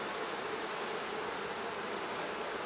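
Honey bees in an open hive make a dense, steady buzzing hum, close and continuous throughout, with no voices.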